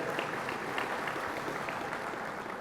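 Audience applause at a hunters' general assembly, a steady wash of clapping from many hands filling the hall at moderate level without pause.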